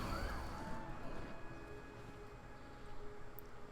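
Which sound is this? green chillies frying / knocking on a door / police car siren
police car siren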